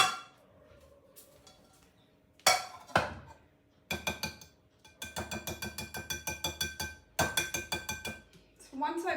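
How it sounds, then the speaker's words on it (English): A whisk beats muffin batter in a bowl, clinking rapidly and rhythmically against the sides in loud bursts broken by short pauses, with a few separate knocks early on. "just going to mix this really, really well"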